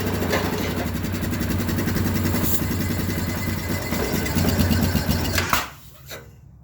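A Yamaha Viking side-by-side engine idles steadily and close, then sputters and dies as its snorkel intake is blocked by hand, cutting off abruptly into near silence.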